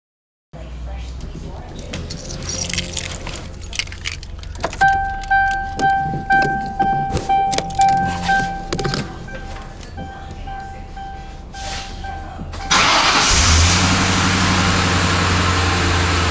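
Ford Thunderbird engine turning over, with a rhythmic pulsing crank repeating for several seconds under talk, a steady tone alongside, then catching and running loudly near the end.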